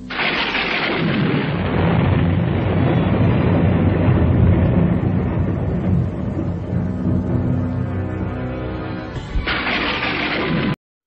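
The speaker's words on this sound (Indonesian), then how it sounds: "Petir yang meledak dari mendung yang menebal" A loud, sustained rumbling roar of thunder rolls on for several seconds before cutting off abruptly.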